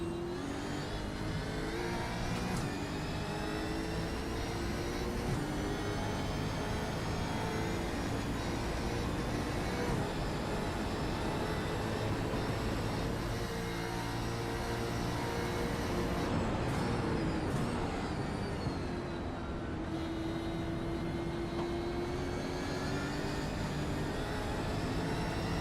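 A race car engine at the Bathurst 500 on lap 12, held at steady high revs and pushed hard while chasing another car, making a constant loud, dense roar for the whole stretch with no talking.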